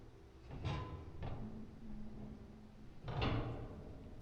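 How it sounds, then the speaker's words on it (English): A door closes somewhere behind a balcony in a romance game scene, giving a few soft muffled thuds and knocks spread over several seconds against a quiet background. "A door closes somewhere behind the balcony."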